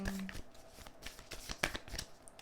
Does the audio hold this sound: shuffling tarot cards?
yes